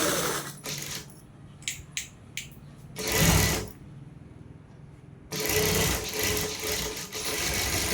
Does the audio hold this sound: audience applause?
no